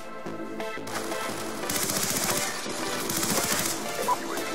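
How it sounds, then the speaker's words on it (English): Video game gunfire, with bursts of rapid automatic fire and scattered shots at moderate loudness over a busy game background. "Oh, where am I getting shot from?"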